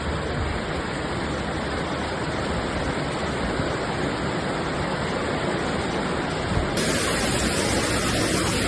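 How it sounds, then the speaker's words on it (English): Floodwater from a swollen small river rushing during the Valencia floods, a loud, constant broadband roar filling the scene without pause and with no talk over it. "So that is our tiny little river now."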